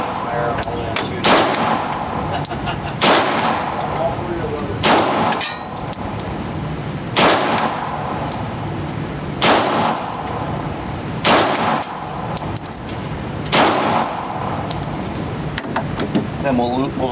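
Beretta 92 pistol fires on a range, about eight sharp, loud single shots spaced a couple of seconds apart, each with a ringing metallic tail over steady background noise.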